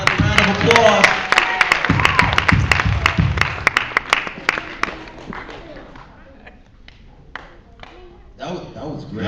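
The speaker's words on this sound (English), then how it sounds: "Another round of applause." Applause from a talent show audience after a woman's song breaks out loudly as dense clapping, then thins out and fades toward the end before a brief swell.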